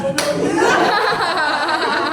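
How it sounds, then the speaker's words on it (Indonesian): A workshop audience of teachers gives a brief round of clapping mixed with scattered chuckles, a short indoor burst that quickly thins out. "Tepuk tangan."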